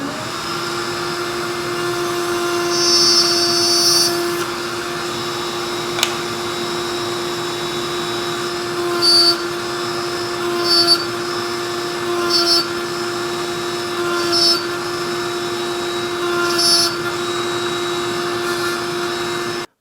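A woodworking machine with a router bit runs steadily while cutting a box joint with a jig, a loud continuous whine and hum with several brief, brighter surges as the bit bites into the wood.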